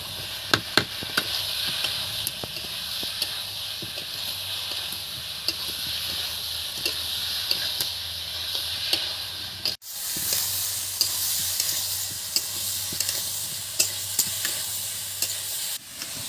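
Potatoes stir-fried with spices in a pan, a steady loud sizzle with frequent scraping stirs and spatula clicks throughout, with a brief break partway through.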